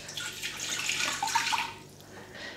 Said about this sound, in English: And then I'm going to add my 2 cups of water.